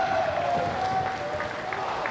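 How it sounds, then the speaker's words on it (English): A wrestling crowd roars and applauds loudly and continuously at an IPW show after a drop kick, a dense wash of clapping and cheering with no pause. "The crowd is going ballistic."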